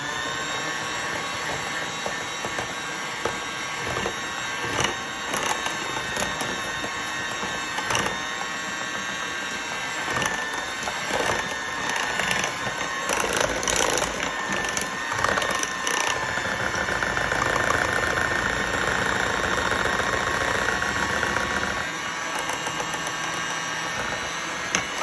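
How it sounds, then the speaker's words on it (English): An electric beater whirs on low speed through German chocolate cake batter, a steady mechanical drone with rattling clicks against the bowl that rises slightly midway, near and continuous. "Start your beater low."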